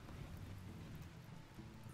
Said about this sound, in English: And now it's raining, so that should put out anything else.